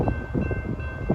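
Eastbound CSX intermodal freight train loaded with marine containers rushing past fast, a dense, loud low rumble with a thin steady tone above it, heard in a brief burst.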